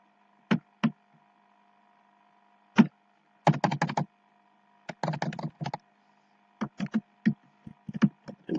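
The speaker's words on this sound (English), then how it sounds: "We need to type the message." Clicking on a computer keyboard comes in short bursts of quick keystrokes separated by pauses, close and fairly quiet over a faint steady hum.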